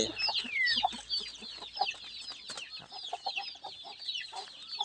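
Farm chickens, including a mother hen with her chicks, cluck and chirp close by in a busy, irregular stream of short calls and higher peeps with no talking.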